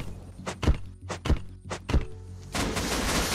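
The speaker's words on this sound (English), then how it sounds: "They're still throwing C4." C4 explosives thrown during a base raid in the game Unturned, a series of heavy thumps landing in an uneven rhythm, followed by a broad burst of noise at the end.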